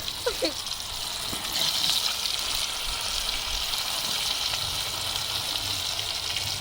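Fish frying in oil in a pan, a steady broadband sizzle holding at an even level throughout with a few brief clinks near the start.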